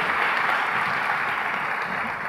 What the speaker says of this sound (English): Let's give everyone of them a big round of applause